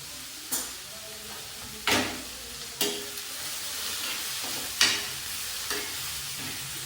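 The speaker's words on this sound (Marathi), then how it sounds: "आता मस्तपैकी कांदा आणि टोमॅटो भाजत आहे" Onion and tomato with salt frying in a pan for a paneer curry give a continuous sizzle, broken by five or six sharp scrapes and clatters of a spoon stirring at uneven intervals.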